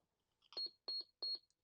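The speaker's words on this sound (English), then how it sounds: "It's beeping and complaining about the time and date." A vintage Merlin office telephone beeps three times in a steady rhythm on power-up, short bright electronic tones that are close and clear against a quiet background.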